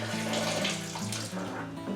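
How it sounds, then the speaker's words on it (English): Just-boiled water poured into a plastic brewing barrel for a Bavarian lager homebrew kit and swished around, a steady close splashing rush with a low hum underneath. "I'm going to pour some in, not all, give it a little bit of a swish about"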